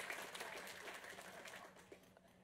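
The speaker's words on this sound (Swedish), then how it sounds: "de får en applåd igen tycker jag faktiskt" Faint, distant applause from an audience at a municipal presentation in Motala, a soft continuous patter of clapping that slowly tapers off.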